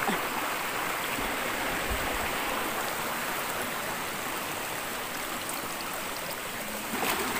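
A forest stream rushes steadily in a constant, hissing flow, running fast nearby, with no voices over it.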